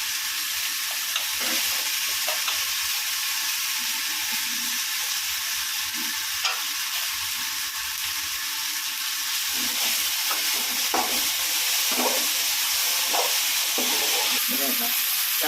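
Coriander, curry leaves and tomato fry in oil for a pumpkin kuzhambu, producing a loud, continuous hissing sizzle with scattered crackles and pops and some stirring knocks throughout.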